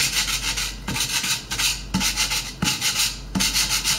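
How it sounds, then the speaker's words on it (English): An electric sander works over a wooden project being antiqued, pressed to one side to scuff in lines. It makes loud, rhythmic rasping strokes, about one every second, with no talking. "I will press over on one side of my sander"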